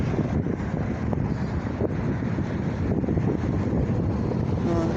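Steady, loud wind buffets the microphone on a sunny day near a beachfront, a continuous low rumble that never lets up.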